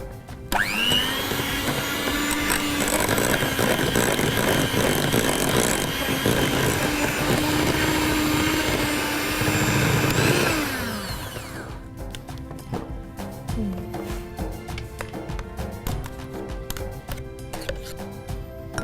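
An electric blender whirs steadily through chocolate muffin batter for about ten seconds with a loud, even motor whine, then winds down and stops, leaving quieter clattering and room noise.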